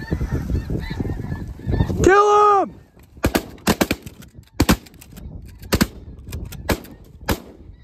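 Shotguns fire on a spring conservation snow goose hunt in a Dakota field, a rapid string of loud, sharp blasts following a burst of honking goose calls. Muffled voices and movement sound near the start.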